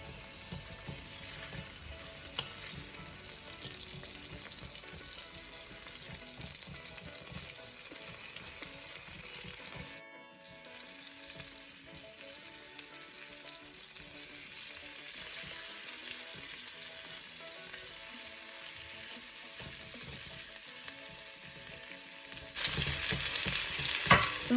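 Pork ribs sizzle and fry steadily in a pot as they are browned and flipped, a loud continuous crackle with a brief dip when the meat is turned, then louder again.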